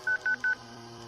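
Three short, even phone dialing tones beep in quick succession, followed by a quiet background hum.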